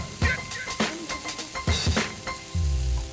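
Dry-aged beef sizzling on a Korean barbecue grill in an expensive restaurant, a loud close crackle and hiss with irregular pops and clatter as the meat is moved, no talking.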